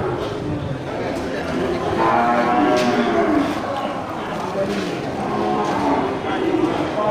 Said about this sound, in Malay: Mantap ya, sapi dari jenis sapi Semental.